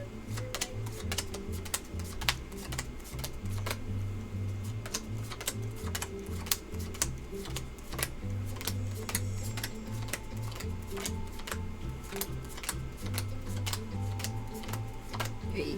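Playing cards dealt by hand into seven stacks of seven for a Pai Gow poker game: a steady run of crisp, light card taps and snaps over a low background hum, with no talking.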